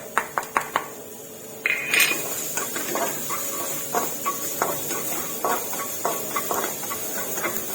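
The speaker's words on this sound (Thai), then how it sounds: "เขาก็จะเอากระเทียมลงไปผัดค่ะ" Garlic frying in a pan for a vegetable sauce, heard as a run of sharp metallic clinks and scrapes of a utensil against cookware over a low steady sizzle, close and fairly loud.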